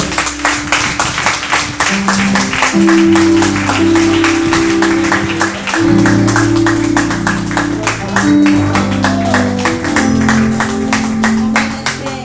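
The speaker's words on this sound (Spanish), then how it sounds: "Un aplauso al Señor, mis hermanos." A church congregation claps for the Lord during a service, with dense rhythmic clapping held for several seconds and loud sustained organ or keyboard chords and some voices under it.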